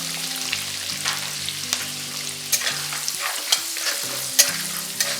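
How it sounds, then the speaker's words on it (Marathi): Peanuts and fresh curry leaves with chilli and asafoetida fry in oil in a pan for bhadang, a close steady sizzle punctuated by sharp spoon clinks and stirring scrapes, no speech. "आणि शेंगदाणे पूर्ण भाजीपर्यंत आपण हे थोडंसं परतून घेणार आहोत"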